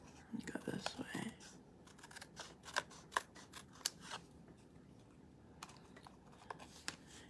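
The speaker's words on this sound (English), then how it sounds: "I got to cut this off because I forgot that I made it shorter here." Scissors snip a paper strip for a handmade card in a quiet crafting session, with faint, intermittent cuts and clicks spread across the stretch and soft low speech at times.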